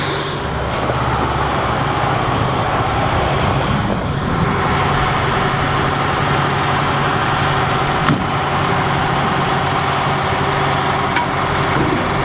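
A fire engine rumbles loudly as it pulls up at an army live-fire training exercise, its engine noise steady and close throughout with a few brief clanks.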